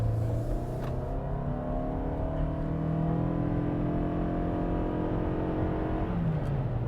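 A 2022 Toyota Sienna Hybrid Woodland Edition accelerates from a dead stop, its engine droning steadily and rising in pitch as it revs, heard from inside the cabin with a continuous road and motor hum.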